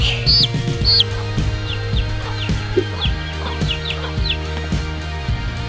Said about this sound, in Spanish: Nota, Ivana ya se agarró su pollito